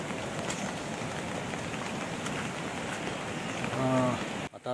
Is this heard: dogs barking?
no